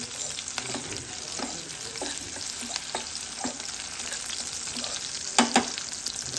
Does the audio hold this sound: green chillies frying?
yes